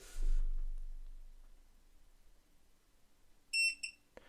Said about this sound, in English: you also get a beep